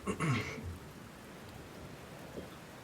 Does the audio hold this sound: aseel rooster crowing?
no